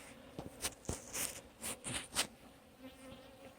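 Honey bees around a hive buzz close by, with several individual insects droning past in short overlapping swells against a quiet background.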